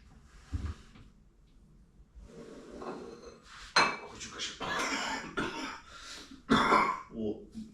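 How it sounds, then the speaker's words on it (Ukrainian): A throat being cleared with a cough or two nearby, among clinking dishes and cutlery, with talk at the start. "Чуєте, прокашлюється це бомба."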